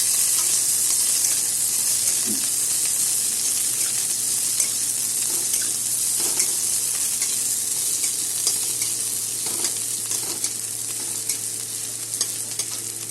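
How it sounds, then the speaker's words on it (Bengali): Onion frying in oil in a home pan for a Bengali jute-leaf greens recipe, a continuous close sizzle under repeated scraping and stirring strokes of a spatula, with no talking. "পেঁয়াজ আমার ভাজা হয়ে গেছে"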